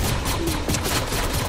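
Rapid gunfire in the video game Fortnite, a dense burst of repeated shots filling the whole moment, loud and close.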